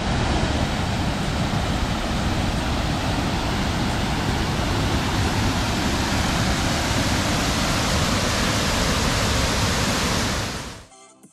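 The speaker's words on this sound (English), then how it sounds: "there's also another waterfall here and down further" Steady, loud rushing roar of water from Elliot Falls or Fruitbat Falls on Cape York, a continuous broadband wash with no pauses that cuts off abruptly near the end; no talk.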